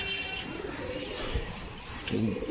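Pet pigeons coo softly at close range, low throaty calls rising near the end over a faint background hum, with a voice speaking nearby.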